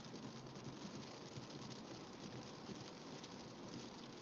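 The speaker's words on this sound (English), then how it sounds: "Good amount of rain coming down right there." Heavy rain pouring down during a severe thunderstorm in western New York, a dense, steady hiss of falling water that holds at an even level, faint and distant, with no voices.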